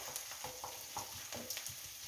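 Onions frying in a pan for a homemade scrambled egg breakfast with peppers, a soft continuous sizzle with faint stirring scrapes, quiet and steady, no talking.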